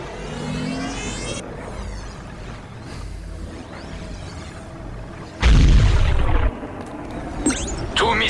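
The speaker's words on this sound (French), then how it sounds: "Tout missile tiré." Game combat sounds in a Warhammer 40K video game, with whooshing missile launches and a loud booming blast midway, followed by rumbling and further sharp effects.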